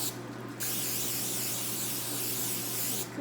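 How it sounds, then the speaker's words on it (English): Cooking spray hisses onto a preheated waffle maker in one steady burst lasting about half a second, then stops, followed by a low hum and a brief second hiss near the end. "I've preheated it and sprayed it with cooking spray."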